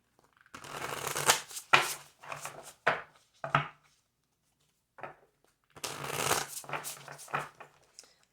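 A deck of cards is shuffled in several quick riffling bursts separated by short pauses, close and crisp, with a longer shuffle near the end.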